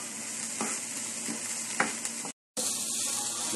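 Garlic and onion sizzle in a pan with a constant frying hiss, a few soft scrapes of a spoon as they are stirred, close and steady with a brief dropout near the end.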